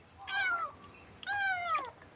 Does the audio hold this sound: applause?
no